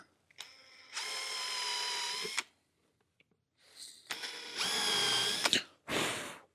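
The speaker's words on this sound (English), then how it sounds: "I'm just going to pop a little pilot hole in there." Power drill boring a small pilot hole for screws close to the edge of a shelf or drawer fitting, two loud sustained whirring bursts separated by a brief pause, close up, ending with a short trailing buzz and no talk.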